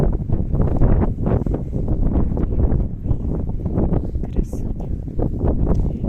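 Steady wind buffets the microphone in low, rumbling gusts in a yard on a spring day while someone speaks over it.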